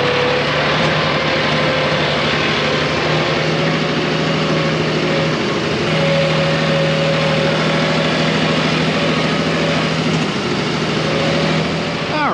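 A tractor engine runs steadily at close range while mowing pasture, a continuous low rumbling drone with a faint higher whine, no voices.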